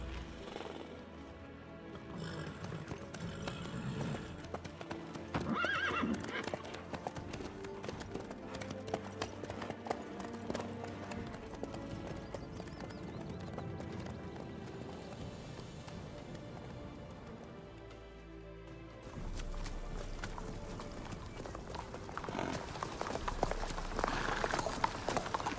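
Roach, Geralt's horse in The Witcher video game, gallops with steady rhythmic hoofbeats throughout, close and fairly loud beneath a dense layer of game music, with a brief shift in the backdrop partway through.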